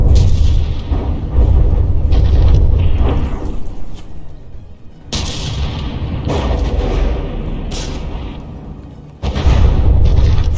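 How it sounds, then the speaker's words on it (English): Mortar fire from a battleship in the From the Depths game booms out in heavy, low blasts that rumble on, broken by short pauses before fresh bursts strike. "Did the Divine Offering just mortar itself?"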